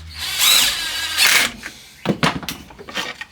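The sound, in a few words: power drill driving chipboard screws into wood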